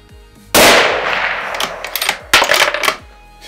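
Two sharp rifle shots from a Mauser M12 Max in .308, fired outdoors about two seconds apart, each a loud crack followed by a rolling echo and a long decaying tail, with no talking.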